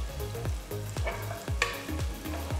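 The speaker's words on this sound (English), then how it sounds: "Saute the onions till they've come to a nice golden color." Chopped onion sautéing in a pan for an Indian corn and spinach curry, with a steady close sizzle and repeated rhythmic stirring scrapes, no talking.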